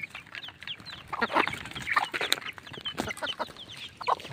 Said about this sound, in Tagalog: nabigyan na po natin sila ng patuka yung ating mga alagang sisiw